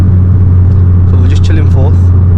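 A Volkswagen Golf GTI engine at full throttle heard from inside the car as a loud, steady low drone with a constant engine hum, while a voice speaks over it.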